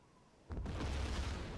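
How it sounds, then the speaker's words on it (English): A torpedo explodes against a destroyer in the submarine game Silent Hunter 3 GWX, a sudden low boom that swells into a sustained heavy rumble, loud and close, with no voices. "that destroyer is about to eat a torpedo"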